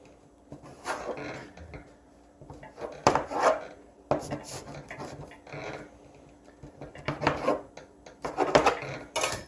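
A knife cuts soft pretzel dough into sections on a work surface. It makes several separate scraping, rubbing strokes in an uneven rhythm, close and moderately loud, with no talking.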